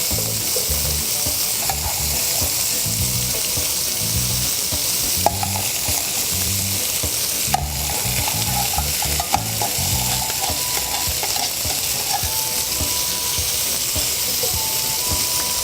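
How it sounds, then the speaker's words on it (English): Onions and green peppers sauté in butter in a pan turned down to medium, a steady close sizzle with occasional stirring scrapes and clicks, and no talk. "And I'm gonna let it saute, just let the onions get a little bit glazed."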